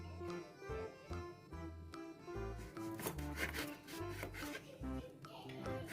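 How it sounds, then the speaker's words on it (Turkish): A knife cuts thinly through a lemon on a board in quick, regular strokes, each one a close, crisp chop with a soft wet crunch, repeating steadily without pause. "Bu şekilde ince ince ince ince doğruyoruz bir limonu."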